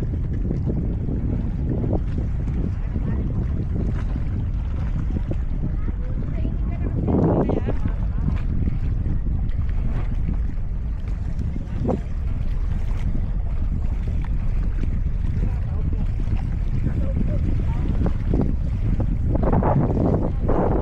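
Small outrigger boat running on the sea at Manila Bay, a steady engine drone mixed with wind buffeting and splashing water throughout, with occasional voices over it.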